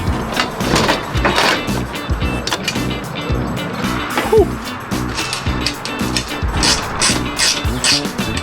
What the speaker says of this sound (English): Now I'm just going to go through all the bolts and tighten everything down.